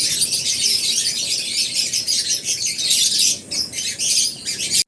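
Birds call at a flight feeder in a dense, continuous chorus of chirps, squawks and tweets, loud and close, with brief rustles of wings throughout.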